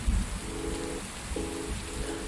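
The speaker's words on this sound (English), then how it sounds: "Chill sounds of rain right here." Steady rain falls in a soft, even hiss, with a brief low thump at the start and faint tonal chirps drifting through.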